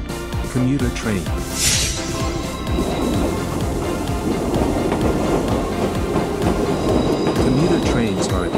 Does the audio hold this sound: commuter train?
yes